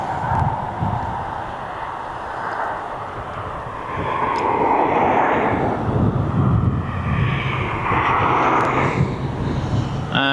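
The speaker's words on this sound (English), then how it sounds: "this Ryanair is going out to Berlin" A Ryanair airliner departing East Midlands Airport for Berlin roars as a broad, loud engine rumble that swells and surges over ten seconds, with wind noise and no speech.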